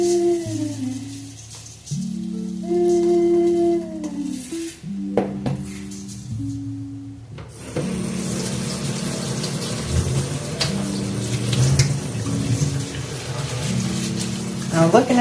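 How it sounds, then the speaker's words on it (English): A tap runs steadily while rice is washed in a strainer, a continuous close splash and trickle with a voice talking over it. "So I'm gonna wash the rice."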